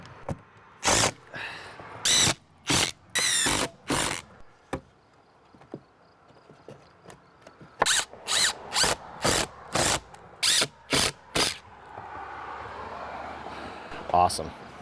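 A power drill drives screws through a shim and plywood while a water-damaged window sill is repaired, sounding in short, loud whirring bursts, a quick run of five followed by a pause and another string of about seven.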